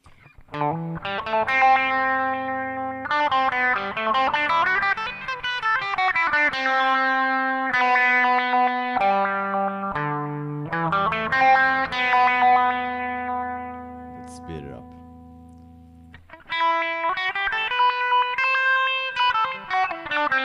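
A synth-like guitar through a Zoom G1 multi-effects pedal's step effect plays rapid stepped, gated note sequences that jump in pitch, with a brief pause before the pattern resumes.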